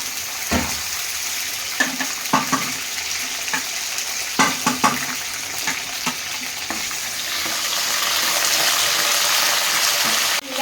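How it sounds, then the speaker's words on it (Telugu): Raw tamarinds frying in oil, a steady sizzle punctuated by repeated stirring clinks and scrapes early on, then the hiss swelling louder and more even toward the end. "ఆయిల్ అద్దపో చింతకాయలు నూనెలో ఫ్రై చేసుకో మెత్త పడతాయి"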